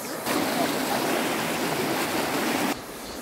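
Loud, continuous rush of a waterfall in the Salobra River canyon, Serra da Bodoquena, Brazil, a dense broadband roar that fills the clip and drops away abruptly just before the end.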